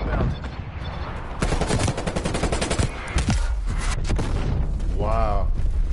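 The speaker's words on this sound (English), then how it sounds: "Hey, that artillery is so good." An artillery strike in Call of Duty Black Ops Cold War brings a dense run of heavy booms and crackling blasts. It stays loud and nearly continuous, and a voice briefly cuts in near the end.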